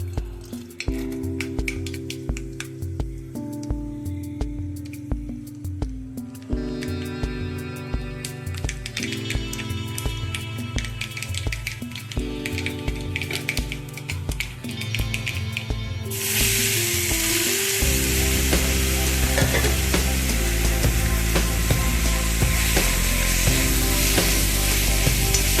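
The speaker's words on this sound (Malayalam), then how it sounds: "നമ്മൾ കടുകിടുകയാണ്." Mustard seeds spluttering in hot oil while making moringa flower thoran: a loud, steady crackling sizzle bursts in partway through, after a stretch of rhythmic background music, and continues hissing to the end.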